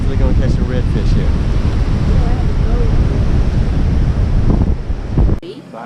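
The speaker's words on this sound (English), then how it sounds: "That's the Ocracoke Inlet. And southwest wind pushing the water up." Strong southwest wind gusting over the water at Ocracoke Inlet, a loud steady roar of wind buffeting the microphone with surf and lapping water beneath, cutting off abruptly near the end.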